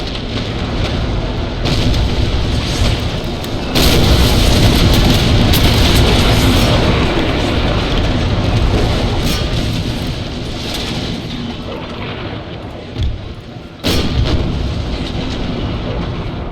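Ship cannons fire during a stormy naval battle in the PC game Empire Total War, heavy booms bursting repeatedly over a dense, continuous roar of sea and gunfire.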